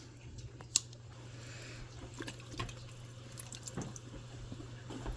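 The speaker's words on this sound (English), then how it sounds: "We are draining the water off them because I don't want any more water in this" Water from a jar of green beans pours off and drains into a sink, a soft steady trickle with a few light drips and small clinks, fairly close and quiet with no talk.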